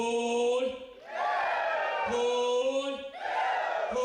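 A standing audience at the Meghalaya International Film Festival 2023 opening ceremony shouts "Hoi" in unison, three loud drawn-out collective cries separated by short pauses.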